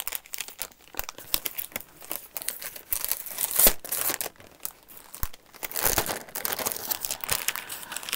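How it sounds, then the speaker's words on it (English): Crinkly paper is crumpled and handled close up, giving loud, irregular crackling bursts and rustles with brief pauses between them. "Oh, we're back to the crinkly paper again."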